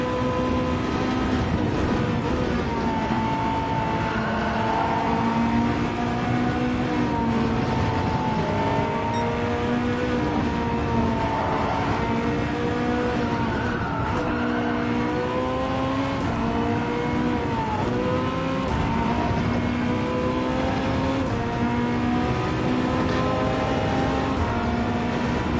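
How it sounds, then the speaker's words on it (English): A race car engine in Gran Turismo 7 drones loudly and continuously with a crackling edge, rising and falling in pitch as it revs through gears, with no talking. "the engine sounds so... You can hear that real crackle to it."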